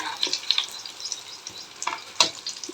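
Batter-dipped poornam boorelu fry in hot oil, giving a steady close crackling sizzle with a few sharper pops and light stirring clicks and no talking.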